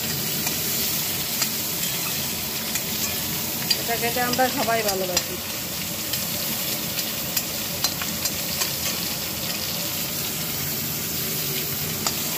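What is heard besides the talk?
brinjal and neem leaves frying in a pan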